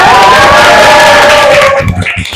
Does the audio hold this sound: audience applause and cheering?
yes